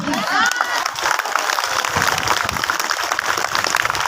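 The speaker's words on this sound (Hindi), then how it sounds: "एक बार जोर से ताली।" Loud applause from a crowd of primary and middle school children at a school gathering, sustained dense clapping with some shouting mixed in, and voices heard over it.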